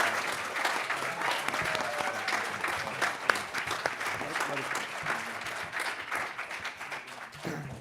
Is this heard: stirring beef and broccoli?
no